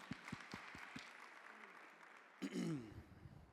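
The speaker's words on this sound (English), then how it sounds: "Give yourselves a round of applause." A youth development conference audience applauds with a steady patter of clapping that swells briefly near the end as a voice cuts in.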